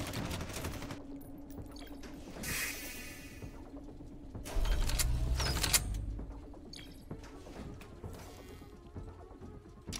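A turret firing in the video game Red Solstice 2, a rattling automatic burst over a steady mechanical hum, with a louder low-heavy rumble in the middle, fairly faint overall.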